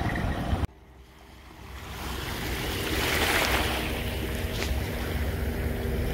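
Ocean waves at Cozumel with boats nearby, a continuous washing surf that builds and swells midway, with some wind buffeting on the microphone.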